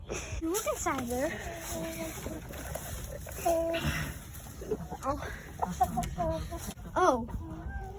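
Chickens cluck and call on a farm in warbling bursts throughout, mixed with a person talking nearby and some background noise.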